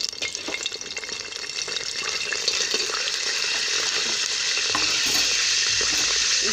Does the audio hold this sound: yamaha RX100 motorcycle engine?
no